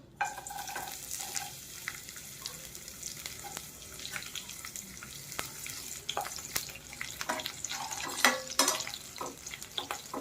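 A second batch of garlic frying in oil over low heat gives a continuous close sizzle, punctuated by frequent stirring scrapes and clinks, growing busier toward the end.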